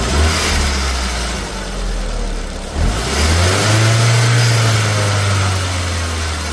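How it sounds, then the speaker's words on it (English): A car engine with a suspected stuck or broken turbo wastegate idles with a loud, steady rattle, then briefly dips and revs back up to a sustained, rising drone, all up close. "that rattle can be the wastegate"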